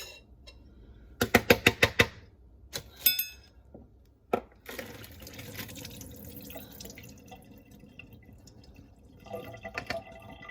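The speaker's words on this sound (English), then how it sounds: "We're just going to strain them in the colander. And we're just going to give them a rinse." Salted hot peppers are tipped and rinsed in a colander: a quick run of sharp clatters and drips, then a quieter stretch of water trickling and pattering, close and fairly soft.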